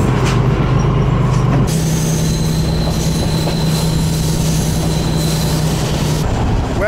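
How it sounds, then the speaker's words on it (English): A train crossing a bridge from Hungary into Ukraine on the line to Chop: a loud, close, continuous rumble of wheels on rails with a sustained squealing tone running through most of it. "we're back on the train to Chop"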